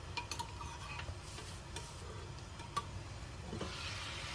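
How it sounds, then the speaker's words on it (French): A utensil stirs mutton stew in a pot, soft scraping and clinking strokes over a steady low simmering hiss, quiet and close. "Je mélange."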